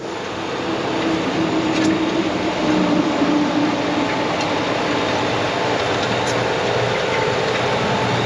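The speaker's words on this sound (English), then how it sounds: "That's a brand new tractor." A brand new farm tractor runs with a steady broadband engine rumble and drone, fairly loud and continuous, with no talking.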